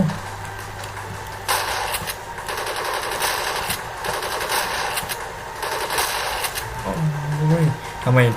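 Video game gunfire from Code of Honor 3: rapid automatic bursts, loud and repeated, with a voice talking over the shots.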